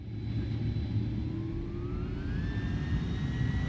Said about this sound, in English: The engines sound like they've spooled up